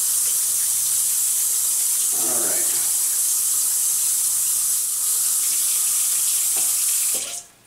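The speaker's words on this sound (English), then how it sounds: "I wash off the salt from those pieces" Tap water runs steadily over pieces of dried salted cod, a close, continuous hissing stream with a few light splashes. It cuts off abruptly at the very end, and nobody speaks.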